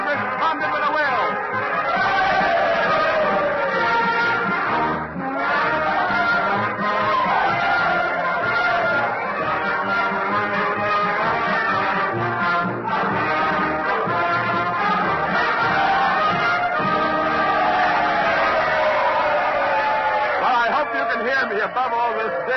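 Dense, noisy crowd din at Ford's Theatre, loud and continuous under a speaking voice throughout, with a constant wash of many overlapping voices.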